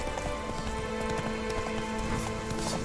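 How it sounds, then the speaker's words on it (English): Horse hooves clopping in The Witcher 3 as the mount is called, a rapid run of light hoof beats over a steady ambient game bed, with no talking over them. "Call my horse and go to this new point of interest."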